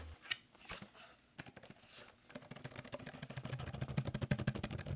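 Keys clatter on a Logitech curvy ergonomic keyboard, scattered presses at first, then a quick, steady run of close, crisp clicks that builds in pace and loudness.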